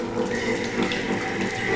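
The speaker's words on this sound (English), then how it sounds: "Now we're gonna pour our drink." A zombie cocktail pours into a tiki mug in one short, steady liquid stream, close and clear with no talking.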